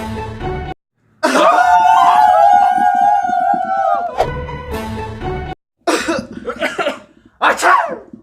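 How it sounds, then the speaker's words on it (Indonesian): Several loud coughs from young people horsing around, with bursts of voiced coughing and a sneeze-like shout, mixed with laughter and talk between the coughing fits. "kita lagi batuk guys"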